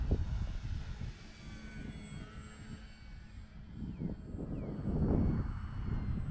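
A small radio-controlled E-flite/ParkZone F4F Wildcat model airplane's engine drones in the distance, its whine swelling and fading as it passes overhead, with no voices.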